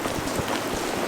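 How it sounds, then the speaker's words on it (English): Steady rain falling and pattering on a surface close by, a dense continuous hiss with scattered heavier drops. "It's raining"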